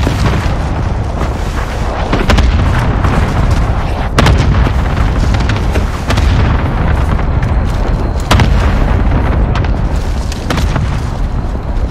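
Loud, continuous barrage of booming cluster strike explosions in the video game Warzone, heavy blasts rolling one after another for the whole stretch with sharp bursts standing out.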